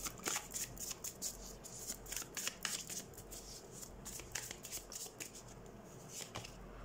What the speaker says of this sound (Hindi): लेट्स सी, एक और कार्ड निकाल लेते हैं हम।